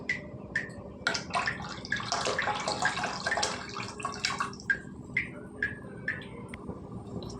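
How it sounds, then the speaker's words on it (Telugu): Tamarind water splashes into a pot of lentil soup (pappu charu) in a brief, burbling pour, followed by scattered close drips and trickles. "చింతపండు పులుసు వేసుకున్నాం కదండి."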